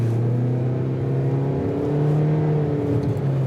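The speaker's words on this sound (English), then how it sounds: "I'll put my foot down and you can take a listen." A 2022 Toyota Corolla Cross accelerates under full throttle, its engine drone climbing steadily in pitch, then dropping briefly as if shifting before rising again, heard from inside the cabin with no talking.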